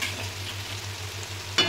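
Spices sizzle and fry in a pan over onion and garlic for bhetki fish kalia. A steady hiss runs close by, and a sharp stirring scrape comes near the end.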